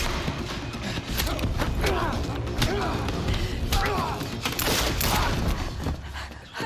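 Gunfire rattles in the video game Quantum Break, a rapid string of sharp shots and thuds with scattered voices and shouts mixed in, loud and continuous.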